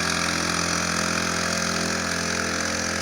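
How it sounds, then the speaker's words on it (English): A Honda 1.5 HP outboard motor runs steadily on an outrigger canoe, a close, constant droning hum with a strong tonal whine and no breaks or talk. "it is an outboard engine, but it's not that loud"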